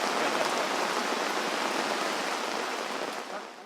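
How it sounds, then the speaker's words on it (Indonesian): Heavy rain falling at night outdoors, a steady, loud, dense hiss of downpour that continues without a break and fades slightly at the end. "hujan cukup lebat ya"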